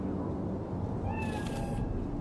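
A cat in the video game Cyberpunk 2077 gives a single short meow, heard clearly over a steady low ambient background hum.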